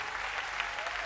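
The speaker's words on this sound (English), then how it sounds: "Clap again." Audience clapping at a church service, a dense burst of many hands applauding together, loud and close throughout.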